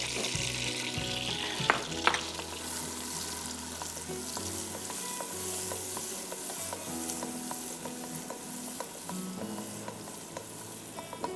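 Chopped onions frying in a cooking pot with a steady, close sizzle, broken by a few sharp clinks and scrapes of stirring near the start; no voices.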